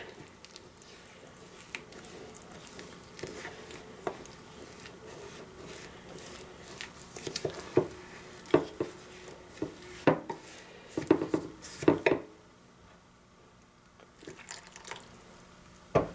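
A spoon scrapes and stirs a baking soda and water paste for cleaning oven door glass, soft wet squishes and scattered clinks against the bowl, intermittent and close.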